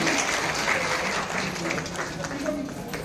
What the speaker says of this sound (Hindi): एक बार जोरदार ताली बजाकर इनका स्वागत कीजिए